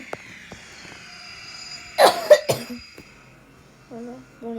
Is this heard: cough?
yes